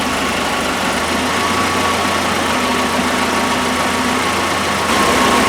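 A 1981 Alfa Romeo Spider Veloce engine idles smoothly and evenly, just barely warmed up, a steady close mid-pitched hum with no talk.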